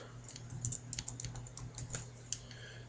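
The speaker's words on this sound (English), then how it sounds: "I'll go ahead and type that in" Typing on a computer keyboard, a quick irregular run of soft close key clicks over a low steady hum, faint and with no talking.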